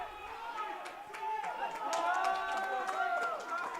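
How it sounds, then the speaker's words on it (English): Crowd at a college men's tennis doubles match between MTSU and Butler, a continuous lively mix of cheering and raised voices with scattered claps, steady and fairly close throughout. "You can hear the crowd into this one."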